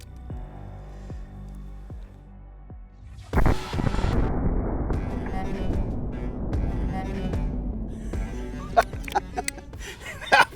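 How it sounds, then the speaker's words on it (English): A single loud blast from a handheld .30-06 hand cannon fired freehand, one sharp boom that rings out and decays over a low hum, with faint clicks and handling noises afterward. "it's a little intimidating shooting a handgun with a cartridge this big"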